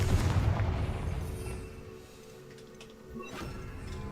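A Confringo explosion spell goes off in a Harry Potter video game, a loud, heavy boom at the start that rumbles and fades, followed by quieter crackling bursts.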